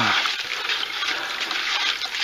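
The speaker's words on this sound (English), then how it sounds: "Just stick your arm in there, swirl it around a little bit." An arm swirls Lucky 7 trace mineral attractant mix around a bucket of creek water, a steady close sloshing and churning of water with no talk.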